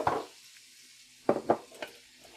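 Beef browning in a pan with mushrooms, onion and garlic nearby, a faint sizzle broken by a few sharp scraping stirs of a wooden spoon, close and quiet, without speech.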